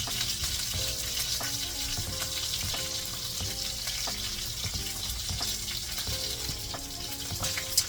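A pot roast sears in a hot pot with constant crackling sizzle and scattered pops, steady and close, with no talking.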